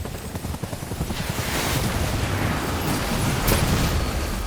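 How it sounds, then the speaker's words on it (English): Military chopper in Death Stranding thudding with rapid rotor chop over a broad roaring wash of wind and engine noise, steady and close throughout. "The chopper gonna shoot at me."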